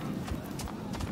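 Horse hooves clip-clop on the ground in the video game Rise of the Ronin, a steady, close rhythm of hoof strikes repeating about three times a second.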